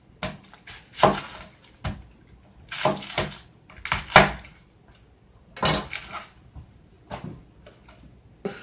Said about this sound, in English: Cut our onion.